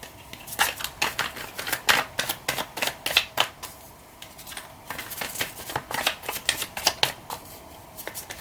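Rapid, crisp riffling of tarot cards being shuffled, in repeated bursts of slaps and flutters close by, with no talking.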